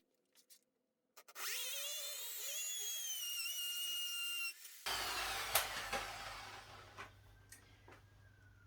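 A small drill bit bores a hole in a wall for a plug, giving a high, sustained whine that shifts in pitch partway through, then rougher grinding and a few knocks, all fairly faint.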